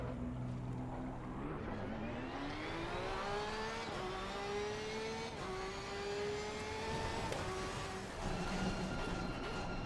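A Porsche rally car engine in a racing video game hums and revs steadily, its pitch climbing and dipping through gear changes as it accelerates, a smooth continuous whine with no talking.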